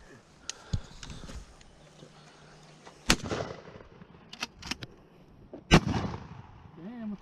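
A Remington 870 TAC-14 12 gauge pump shotgun fires outdoors, with two sharp loud blasts standing out among smaller pops and knocks, while people talk nearby.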